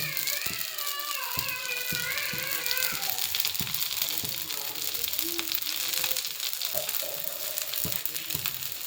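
An onion set dosa sizzles in oil on a hot pan with a steady crackling hiss. A voice and some light talking come in above the frying.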